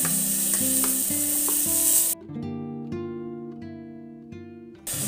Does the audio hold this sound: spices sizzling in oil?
yes